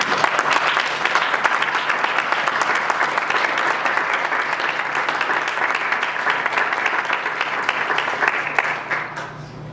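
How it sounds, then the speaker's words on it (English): An academic conference audience gives the committee a hearty round of applause, a dense, steady burst of clapping that holds for nearly ten seconds before starting to thin at the end. "So let's give the conference committee a hearty round of applause."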